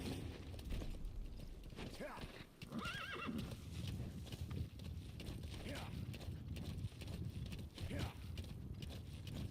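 Horse hooves clip-clop steadily while the horse neighs and whinnies several times, loud and close, with a busy Metal Gear Solid V game soundscape underneath.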